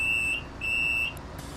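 Door warning signal on a Solaris Urbino 10 III bus in the OMSI simulator sounds as two loud, steady high-pitched beeps of about half a second each, separated by a short gap, with no voices.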